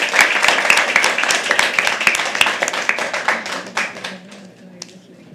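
Audience clapping at a live poetry open mic, a dense burst of applause from a crowd that holds steady for about four seconds and then thins into a few scattered claps, with some voices underneath.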